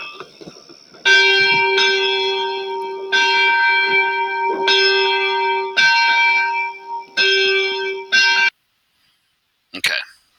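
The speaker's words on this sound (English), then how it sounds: "Toll the bell. Summon the militia." A single church bell tolls to summon the militia, several ringing strokes with long resonant decay, loud and close, followed by a brief human noise after a pause.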